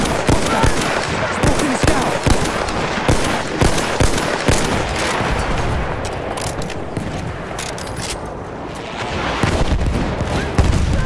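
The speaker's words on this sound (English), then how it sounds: "Enemy machine gun!" Enemy machine gun fire in the Battlefield 1 video game, dense rattling bursts of rapid shots with heavy battlefield gunfire and booms, loud and continuous throughout.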